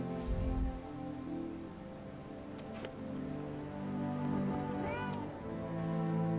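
A cat meows in the video game Forspoken, with short mewing calls over a steady bed of game ambience and music; a brief low thump opens the moment and a rising cry sounds near the five-second mark.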